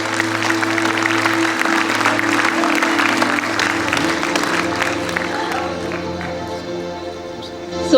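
Parents at a school event give a big round of applause, a dense steady clapping with some crowd noise and a sustained musical hum underneath, fairly loud and continuous before easing slightly at the end.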